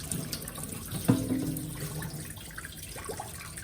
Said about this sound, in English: Just gonna pour off the hot water into the sink here.